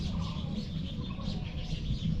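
Soft, distant bird calls twitter over steady low outdoor noise, with no one speaking.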